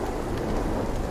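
Thunder rolls through a rainstorm in the survival game Sons of the Forest, a dense, continuous rumble mixed with heavy rain, loud and unbroken for its brief length.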